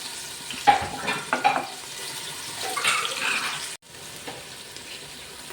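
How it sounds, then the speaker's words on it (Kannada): Onion and green chilli frying in a pan for a mackerel dish, a quiet crackling sizzle with a few clattering stirs and a short break partway through. "ಈಗ ನೀರುಳ್ಳಿ ಮತ್ತು ಹಸಿಮೆಣಸಿನಕಾಯಿ, ಇದನ್ನು 5 ನಿಮಿಷ ಫ್ರೈ ಮಾಡಬೇಕು."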